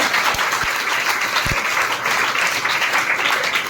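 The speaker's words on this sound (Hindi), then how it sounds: "इनके लिए तालियां बजाओ" Applause from an audience at a school youth parliament event, a dense, loud and steady roar of many hands clapping together that continues throughout with no pause.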